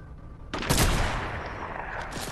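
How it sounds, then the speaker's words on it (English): Fortnite gunfire: after a quiet opening, a loud burst of rapid shots erupts and continues as sustained automatic fire with echoing reports. "Oh, he's shooting me."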